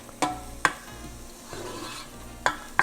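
A spoon stirs a teaspoon of butter into softening onions in a pot, scraping in several distinct strokes over a soft sizzle, close and clear with no talking.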